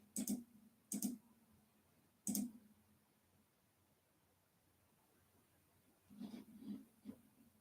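Slow, widely spaced clicks of one-finger keyboard typing: three sharp separate taps early, then a short cluster of three more near the end, faint and close in a quiet room.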